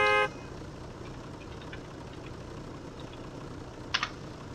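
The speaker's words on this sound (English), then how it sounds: "let's honk the horn and let's play with the lights" A car horn in the BeamNG.drive driving game, on an Abishu Serenity car mod, gives one short loud honk at the start. A low, quiet engine idle follows, with a couple of faint clicks near the end.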